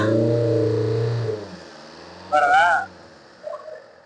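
The engine of a used car at a budget used-car lot in Katpadi, Vellore is revved, then its drone falls away as it settles back toward idle, followed by a brief higher chirp and a faint later sound.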